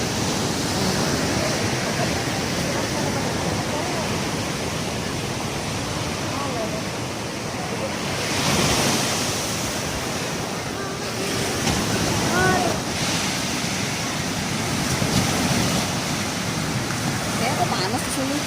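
Ocean surf rolls in steadily on Wedi Ombo Beach, a broad, constant wash of breaking waves with wind buffeting the microphone and surges of louder crashes around the middle and end.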